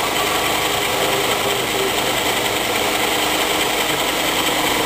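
Philips Stirling cycle generator engine powering a lamp, running with a steady close mechanical whir and fast rattling hum, continuous and even.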